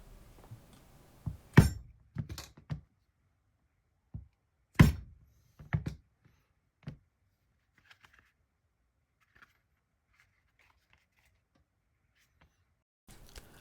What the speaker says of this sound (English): I use this round corner punch